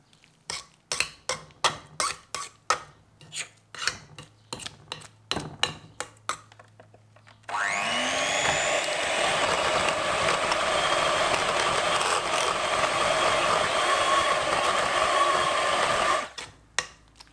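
An electric mixer churns cream into butter, running as a loud, steady whirring drone for about nine seconds before stopping, preceded by a run of sharp rhythmic knocks and taps.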